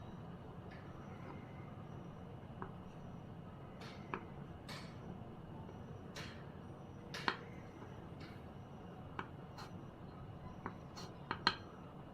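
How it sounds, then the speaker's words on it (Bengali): A knife taps against a cutting board while two boiled eggs are chopped into small pieces, producing faint, sparse, irregular clicks over a quiet background hum. "এখন আমি নিয়েছি দুটা সিদ্ধ ডিম। এগুলো আমি একটু ছোট করে কেটে নিচ্ছি।"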